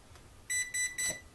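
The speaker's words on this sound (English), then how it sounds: "and you get 3 beeps, and it tells you you're out of that mode." A Holy Stone X400 quadcopter's controller gives three short, evenly spaced electronic beeps, clear and close against a quiet background hiss.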